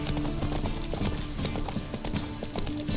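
Hooves clip-clop in a rapid, continuous galloping rhythm as Roach, the horse in The Witcher 3, runs hard under game music and ambience. The loud hoofbeats stay steady throughout, and no one speaks.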